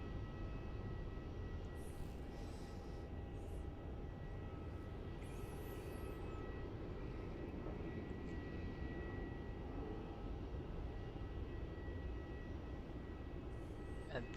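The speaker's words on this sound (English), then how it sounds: "This 777-300ER is about to touch down on runway 16" Boeing 777-300ER airliner touching down on runway 16 at Melbourne Airport after a roughly 15-hour flight, a steady distant engine roar with broad rumble, faint chirps above.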